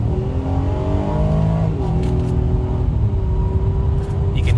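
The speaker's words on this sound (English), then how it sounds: "You can hear that engine explodes when I press down on the gas." A 2020 Acura MDX Advance engine revs up under acceleration, its tone climbing then dropping at a gear change and holding steady over a constant bed of road and cabin noise.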